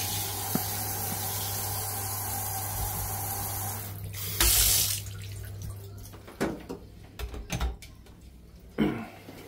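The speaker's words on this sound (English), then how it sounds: "Let's check the water pressure, that's something I do like to do. So let's turn the shower on." A hotel bathroom shower at a Disneyland Paris hotel runs with a steady hiss of spraying water, then cuts to uneven splashing and dripping bursts as the flow changes, close and fairly loud.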